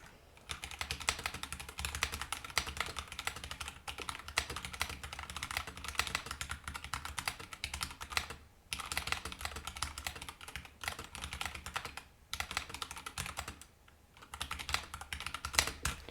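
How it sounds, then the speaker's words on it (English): Steady, rapid clacking of keys on a mechanical keyboard fitted with KeyTok Godzilla keycaps, continuous with a few brief pauses, close and crisp, no talking. "Let's give this a quick type now."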